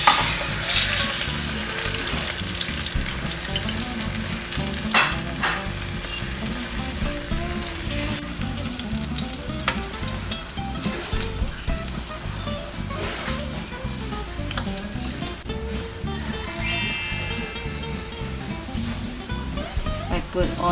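Eggplant frying in vegetable oil in a pan, a steady, fairly close sizzle and crackle that runs throughout, with occasional clatter and a brief burst of louder hiss near the end.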